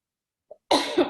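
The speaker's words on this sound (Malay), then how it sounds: "Kau dah batuk-batuk dah" One person coughs: a small throat catch, then a loud, close, harsh cough burst with a second push at the end.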